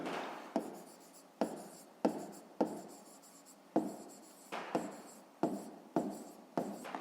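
A pen writes numbers by hand on paper in a series of about ten short scratchy strokes, each with a sharp onset and quick fade, close and fairly quiet.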